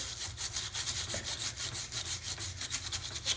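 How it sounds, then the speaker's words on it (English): Deburring tool rasping around a cut copper pipe end, a close, rhythmic scraping with quick repeated strokes, moderately quiet and without speech. "This one should just take the burrs out with this tool here on the inside"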